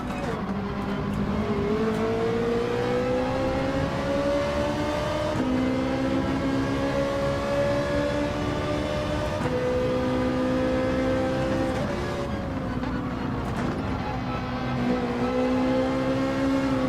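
A Lamborghini Huracan Gr. 3 race car in Gran Turismo 7 at Interlagos holds a loud, steady engine note that climbs through the gears, with brief dips as it shifts. The roar runs continuously and up close the whole way.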